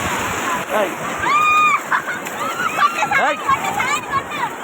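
Water splashes and sloshes nearby at Hamsaladeevi beach while several people talk and exclaim excitedly over it.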